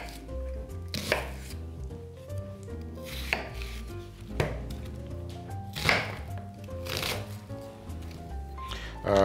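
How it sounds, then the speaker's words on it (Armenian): A knife chops whole onions into pieces on a board for Armenian bean dolma. The cuts land as a series of sharp strikes under steady background music. "Գլուխ սոխը հարմար չափերի ենք կտրատում։"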